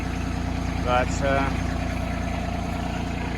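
A Kioti CK2610 SE compact tractor engine idles with a steady, even low hum, while a person briefly says a single word over it.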